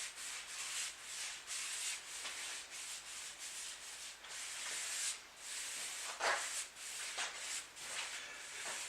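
Paint is brushed across the underside and edges of a plywood floor panel for an inflatable boat, a continuous close scratchy rubbing in repeated back-and-forth strokes, steady and fairly soft with no voices.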